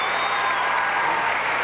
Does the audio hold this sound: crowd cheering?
yes